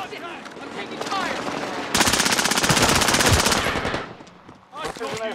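Rapid automatic gunfire from a Warzone match, with a dense sustained burst of bangs in the middle, preceded and followed by game sounds and voice chatter.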